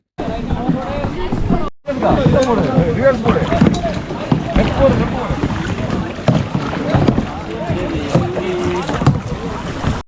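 A kayak moves through the mangrove waters of Varkala, Kerala, with close paddle splashes and water movement under steady wind noise as people talk throughout.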